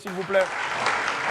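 Audience applause at a comedy show follows a brief phrase from a male host. A steady wash of clapping fills the rest of the short moment at moderate loudness.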